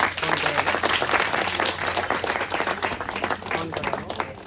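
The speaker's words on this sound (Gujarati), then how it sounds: "તમારા માટે તાળીઓ પાડો." An audience claps loudly and continuously at a Gujarati film screening event with the cast of Laalo present, with individual hand claps standing out from the crowd.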